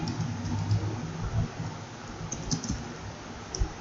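Someone types a task name on a computer keyboard, giving steady, close, rapid key clicks with a few louder taps over a faint background hiss, no talking.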